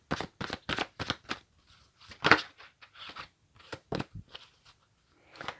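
Oracle cards are shuffled by hand in a string of crisp, rhythmic riffling bursts separated by short pauses, close and fairly quiet.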